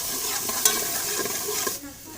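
Garlic ginger paste fries in hot ghee with a continuous close sizzle and soft stirring clicks, and no talking.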